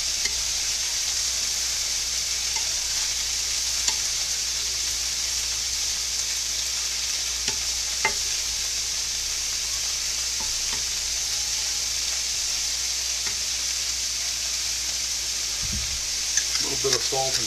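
Onions and tofu frying in a pan, a steady hissing sizzle like light rain that runs throughout, with occasional faint utensil clicks and a brief stir near the end.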